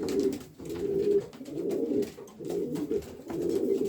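Racing pigeons coo in a loft, soft low repeated coos in a steady rhythm, several in a row, close and fairly quiet with no talking.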